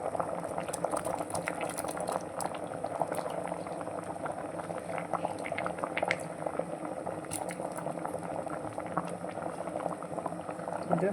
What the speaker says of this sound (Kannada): ಇದು ಈಗ ಒಳ್ಳೆ ಕುದಿ ಬರ್ತಾ ಉಂಟು.